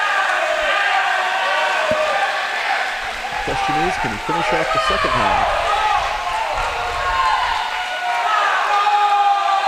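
At a boys' high school swim and dive meet, a crowd of teammates cheers and shouts in an echoing indoor pool, with a commentator talking over the sustained noise.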